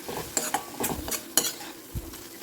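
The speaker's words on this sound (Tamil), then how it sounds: "இதை நல்லா வதக்கிக்குவோம் அது நல்லா வதங்கி வரட்டும்" Tomato and onion sautéing in a pan, with a utensil scraping and clinking against the metal in an irregular rhythm over a soft, steady sizzle; no voices.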